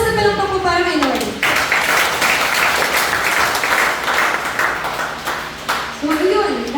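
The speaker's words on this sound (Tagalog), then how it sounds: "Malakas na palakpak mo para kay Lord." A church congregation bursts into loud, dense applause for several seconds, with a voice speaking just before it begins and again as it dies away.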